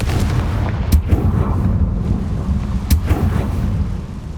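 Two sharp, booming blasts from the Confringo fire spell in the Hogwarts Legacy video game, about two seconds apart, ringing out over a steady low rumble of in-game ambience.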